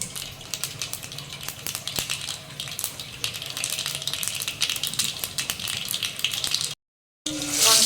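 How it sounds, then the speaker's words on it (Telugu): Eggplants in hot oil with mustard and cumin seeds give a steady, close sizzle and crackle that runs on evenly, cut by a brief silence near the end before a louder burst resumes. "ఆవాలు జీలకర్ర చిట్పట్లాడాలి అదైనాక వంకాయలు వేసుకుందాం"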